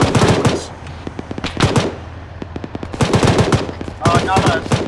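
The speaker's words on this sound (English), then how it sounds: "the other team is shooting on friendly" Bursts of automatic rifle fire in the ArmA3 military video game, sharp rapid cracks in several volleys with short gaps between them, loud and close, with faint voices in the background.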